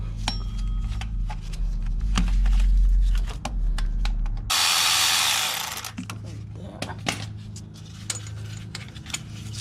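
A power tool whirs in a loud burst for several seconds removing bolts during a Toyota 4.7L engine removal, with metallic clinks and handling noises before and after.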